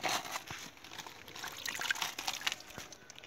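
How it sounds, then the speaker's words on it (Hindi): Spring water trickling and splashing steadily into a stone pool inside a fort, a continuous close bright dribble with small irregular spurts and no talking. "ये जो पानी यहाँ से निकल रहा है ये फिर कुंड के अंदर डलता है"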